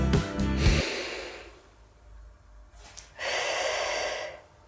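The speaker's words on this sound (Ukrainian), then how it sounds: "Ставимо руки на ребра і вдихаємо так, щоб розкрилися е, самі ребра" A vocal-lesson breathing exercise, with hands on the ribs so they expand: one audible breath is drawn in, a quiet pause follows, then a second long airy inhale is heard up close with no talking.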